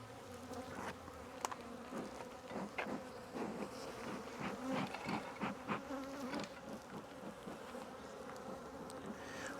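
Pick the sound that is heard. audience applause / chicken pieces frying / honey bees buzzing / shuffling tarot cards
honey bees buzzing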